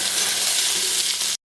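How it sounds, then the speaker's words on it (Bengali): Two medium chopped onions fry in oil in a close, steady, loud hiss that carries on without a break, then cuts off abruptly. "পেঁয়াজটাকে হালকা একটু ভেজে নিচ্ছি"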